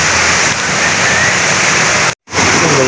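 Strong river current rushing over large rocks in a forest at Barangay Bagamilon, Camarines Sur, heard as a loud, steady roar of white water close by, broken by one brief dropout near the end.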